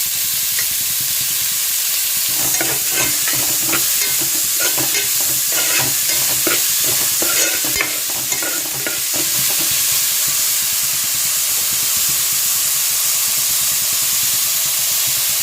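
Rava upma with carrot and salt is stirred in a frying pan, a steady close sizzle and hiss with a run of quick scraping stir strokes in the middle, no talking.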